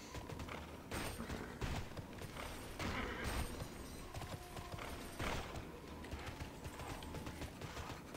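Rhythmic hoofbeats of a galloping horse in the video game TERA Online, rapid clip-clop thuds over a busy, noisy background with occasional sharp bangs.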